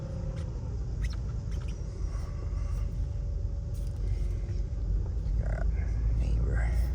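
A cheap, rare classic Mercedes on a test drive, its engine a steady low rumble with road noise filling the cabin throughout, while people talk quietly over it.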